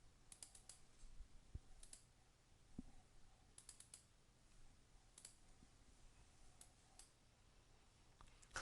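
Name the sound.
computer mouse clicking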